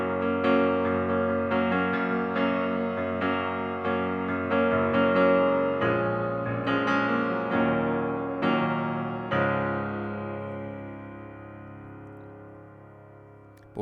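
Piano plays four chords of a pop song in a steady sequence, each block chord struck and left to ring, with later chords sustained longer and slowly decaying, close and clear with no talking.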